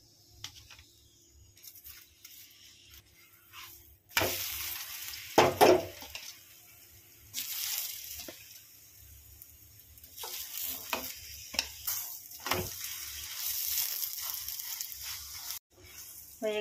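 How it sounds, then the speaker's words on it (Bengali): Roti frying in oil on a hot tawa, soft sizzling and occasional stirring or scraping in a home kitchen, quiet at first then building into intermittent louder bursts of frying noise. "এখন রুটিগুলো ভেজে নিব আমি"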